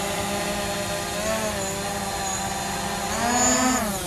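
A DJI Mavic Pro drone with standard propellers hovers close by, its rotors giving a dense, steady whine whose pitch rises twice as the motors speed up.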